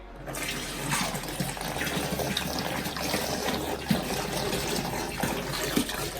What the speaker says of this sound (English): now I'm just going to tip a whole bottle of bleach into that now